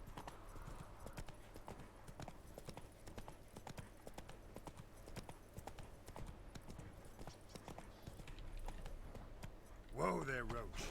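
Roach the horse gallops in Witcher 3, hooves pounding in a steady, fast rhythm throughout, with music and a brief voice near the end.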